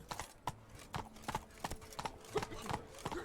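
Roach the horse trots in The Witcher 3, a regular, evenly spaced clip-clop of hooves, quiet and fairly close, with a faint low game ambience beneath.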